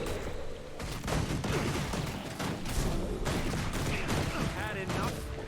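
Rifle fire from Guild Wars 2 gameplay cracks out in rapid bursts of repeated shots with booming impacts, while a voice talks over the battle.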